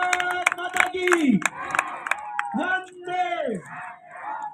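A crowd at a World Disaster Reduction Day and disaster-hero awards event in Udaipur chants a patriotic slogan in loud, rhythmic bursts of many voices, led by a speaker, with scattered clapping.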